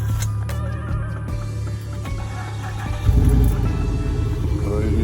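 A 2006 Chevrolet Impala SS engine cranks and catches about three seconds in, its low rumble swelling and settling into a steady idle, with a person talking throughout.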